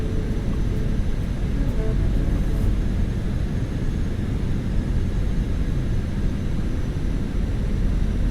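Airliner coming in to land in the VATSIM flight simulator: a steady, loud engine and air roar that holds constant and unbroken throughout, with no talking over it.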